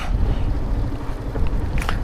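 Strong wind buffets a microphone on a swaying suspension bridge in Mustang, a continuous loud low rumble with gusty roar and no voices.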